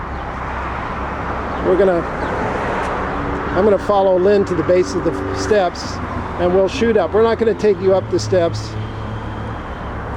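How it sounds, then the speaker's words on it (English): Road traffic rumbles steadily along Sunset Boulevard behind someone speaking outdoors at the base of a set of hillside steps, a constant low roadway hum running beneath his talk throughout. "You can hear the traffic going behind me."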